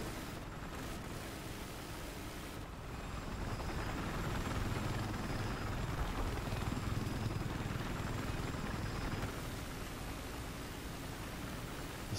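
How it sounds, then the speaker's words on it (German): Helicopter in the shooter Battlefield 4, heard from inside as a steady, broad rotor-and-engine roar that holds at an even level for about twelve seconds, swelling slightly in the middle, with no talk over it. "Ich bin im Helikopter drin."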